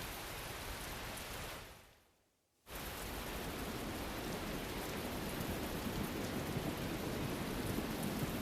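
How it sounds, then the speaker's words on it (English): Steady heavy rainfall in the Tales of Berseria video game: a dense, even hiss that briefly fades to near silence, then returns at full strength and continues unbroken. "Oh, Jesus, it's raining."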